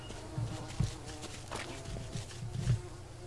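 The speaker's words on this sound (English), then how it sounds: "Bees are scary." Bees buzzing in the survival video game Green Hell, a soft insect drone running steadily through the short stretch with a few low thumps like footsteps underneath, faint and continuous rather than close.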